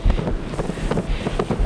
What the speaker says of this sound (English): Winds gusting up to 60 miles an hour